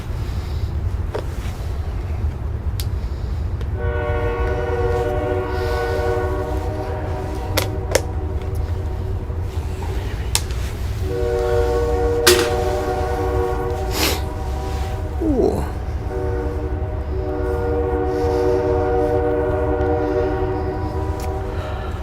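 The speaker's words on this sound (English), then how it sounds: "And the train is saying hello as well." A passing train rumbles steadily and loud for over twenty seconds while its horn sounds in several long, sustained blasts, with sharp rail clanks scattered throughout.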